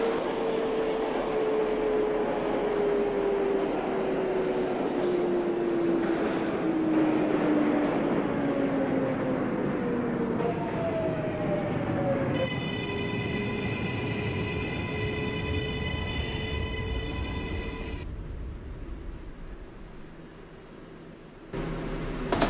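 A simulated R142A subway car on a Parkchester-bound 6 local rolls along with a motor whine that glides steadily downward as it slows, then steady bright tones ring out before the sound drops to a quieter hum.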